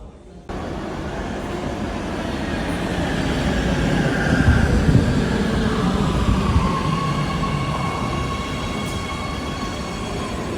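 A train on the opposite track rushes past, a loud sustained rumble and rattle of wheels and cars that swells toward the middle with faint squealing tones, starting abruptly and continuing to the end.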